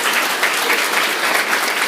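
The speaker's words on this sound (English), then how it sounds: "Can we give the ROTC cadets here another round of applause?" Dense, loud applause from an audience honoring ROTC cadets at a gathering for Vietnam veterans, continuous clapping with no pauses or speech.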